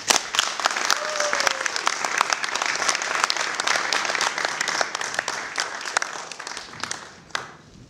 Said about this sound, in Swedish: Jag vill be er ge en stor varm applåd till Elsa Bergman.